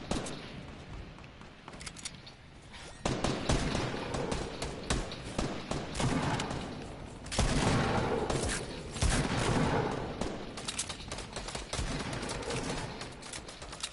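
Assault rifle fire in a video game battle, bursts of automatic shots crackling loudly and almost continuously, with heavier volleys swelling partway through and no talk.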